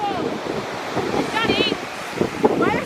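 Ocean waves wash onto a beach under steady wind buffeting the microphone, a loud continuous roar while children's voices call out over it.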